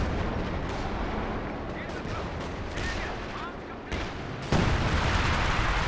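Howitzer shells landing in a Company of Heroes 2 battle, dense booming impacts and crackling gunfire layered over a continuous roar, with a heavier blast near the end.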